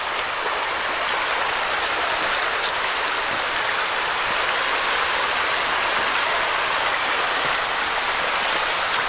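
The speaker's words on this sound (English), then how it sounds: "Another little stream." A small stream in a Pennsylvania state park runs steadily with a continuous rushing, bubbling wash of water, close by and unchanging, with no voices over it.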